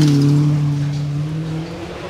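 A Dodge SRT4 rally car on a forest stage lifting off the throttle, its engine note dropping away into a steady rush of wind, fairly loud and unaccompanied by voices.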